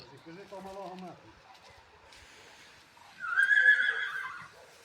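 A draft horse whinnies loudly and shrilly near the end after a softer, lower call, with quiet voices and rustling in the background.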